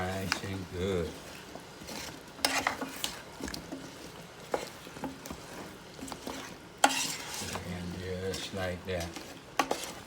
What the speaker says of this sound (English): Put them in, I'm going to stir that up.